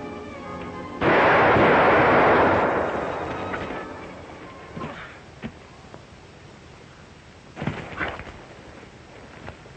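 A single loud gunshot cracks close by in a Northwest trail western, its blast booming and decaying over a couple of seconds, followed by fainter thuds and a sharper knock later.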